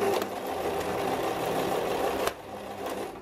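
A sewing machine stitches a strap onto a backpack made from a jacket, a steady close whirring run that stops abruptly near the end, followed by quieter handling.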